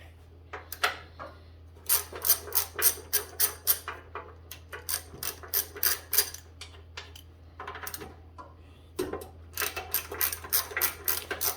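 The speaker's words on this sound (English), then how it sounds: "We'll take the 3 head bolts out for the starter right here, and then we just have to loosen these other 2 up" Ratchet or wrench clicks and metallic scrapes come from close by as head bolts are backed out of the starter housing on a 1970s 4HP Tecumseh engine. The bursts are repeated and rhythmic, separated by short pauses, and no one speaks.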